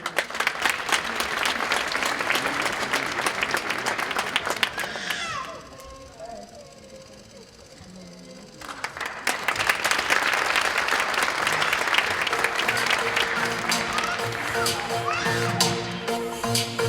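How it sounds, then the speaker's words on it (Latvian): Audience applause at a Latvian folklore festival welcomes the first performer, loud dense clapping that drops off briefly mid-clip, then swells back strongly and continues to the end. "es jūs aicināšu atbalstīt pirmo dalībnieci ar aplausiem"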